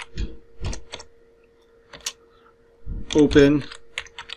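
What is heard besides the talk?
typing a command on a computer keyboard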